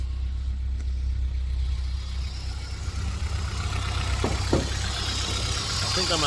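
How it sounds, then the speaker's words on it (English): A Honda S2000 idles steadily nearby, a constant low engine hum running unbroken beneath faint background noise, with no voices over it. "All right, guys, so I got the car running."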